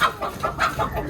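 Chickens clucking close by in a poultry shed, several quick rhythmic clucks in a brief burst with no talking.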